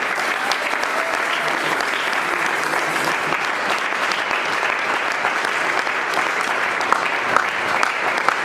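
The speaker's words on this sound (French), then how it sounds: "Est-ce qu'on va acclamer le Seigneur?" A church congregation at a Holy Spirit seminar applauds and cheers the Lord, a steady, dense wash of clapping from a large crowd that holds evenly throughout with faint voices beneath.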